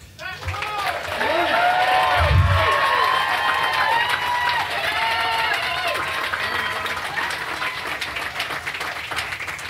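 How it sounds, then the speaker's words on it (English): Audience applause and cheering for political candidates, a steady crowd roar with claps running the whole stretch while a voice speaks over it. "if you want to get your applause out, please do it at this moment"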